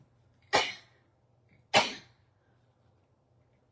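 A person sneezes sharply twice, with a third sneeze just beginning at the very end, each a sudden explosive burst with quiet room between them.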